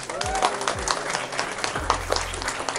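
Applause at a fifth-anniversary tumpeng celebration for Hive Five, a dense patter of clapping running steadily through the whole stretch, mixed with crowd noise, some chatter and scattered voices.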